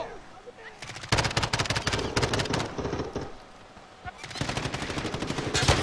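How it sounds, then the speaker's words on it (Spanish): Gunfire in Call of Duty Warzone, with rapid automatic bursts crackling in dense volleys and a brief lull before another sustained stream of shots, loud and close, under faint excited talk from players. "Mira, me están disparando,"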